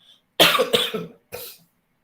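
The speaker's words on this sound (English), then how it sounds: "Please bear with me because I have a bad cough." A close, harsh cough comes in a quick burst of two hacks, then a shorter third cough follows.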